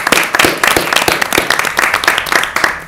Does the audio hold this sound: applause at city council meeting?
yes